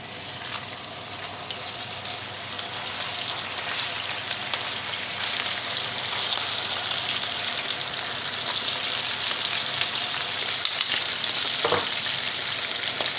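A flat iron steak sears in a smoking-hot pan with a steady, loud, broadband sizzle that builds slightly over time, with faint clinks near the end and no talk.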